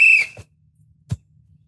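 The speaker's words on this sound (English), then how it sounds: "Are you going to blow the whistle?" A whistle is blown once at a grade school soccer game, a sharp, bright blast at the very start that cuts off quickly, followed by a couple of faint thuds in near silence.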